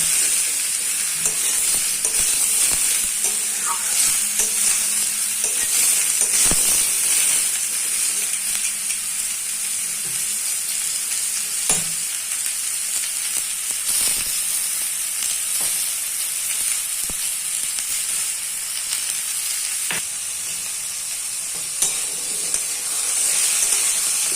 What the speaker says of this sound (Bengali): ঝিঙে আলু ভাজা হয়ে গেছে বন্ধুরা